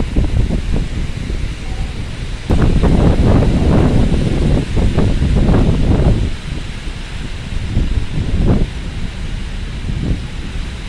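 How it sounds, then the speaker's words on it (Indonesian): Steady rushing wind noise buffeting the microphone at Bakauheni port, with a broad hiss of rain and gusts swelling and easing throughout. "Ini hujannya disertai angin kencang"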